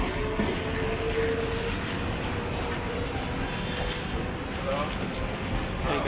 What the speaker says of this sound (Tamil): இங்கேருந்து நம்ம லோக்கல் ட்ரெயின் பிடிச்சி பீச் ஸ்டேஷன் போய்ட்டு